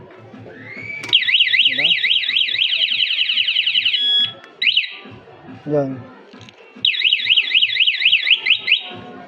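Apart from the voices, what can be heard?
smart motorcycle alarm system sounding on ER150P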